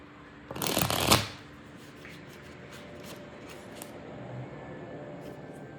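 A brief, loud riffle of tarot cards being shuffled close by, followed by soft rustling and faint handling sounds in a quiet room.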